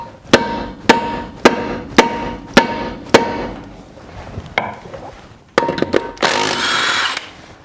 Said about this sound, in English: Let's hammer it on harder.